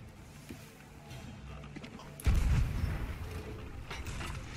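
Ship cannon fire in the Sea of Thieves video game, a single heavy boom cutting through ocean and ship ambience, followed by a rumbling tail.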